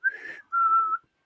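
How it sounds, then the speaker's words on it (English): A person whistles two clear notes, the first short and wavering, then a longer steady tone, heard close and alone. "I did a whistle"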